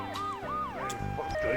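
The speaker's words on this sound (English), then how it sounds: "And now the ambulance is gonna spawn in" An ambulance siren in a Grand Theft Auto game wails in rising and falling sweeps, fairly loud and close, with a brief burst of other game sounds near the end.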